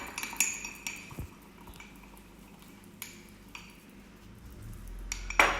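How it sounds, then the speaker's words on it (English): Milk and a teaspoon of olive oil get whisked in a cup with a utensil, giving quiet intermittent clinks and scrapes against the cup's sides and a sharper knock near the end. "And then you just whisk that up."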